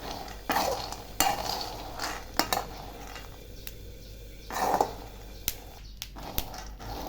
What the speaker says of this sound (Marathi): सारखे दाणे हे असे हलवे पाहिजे कारण कढई पातळ असल्यामुळं दाणे जळता कामा नये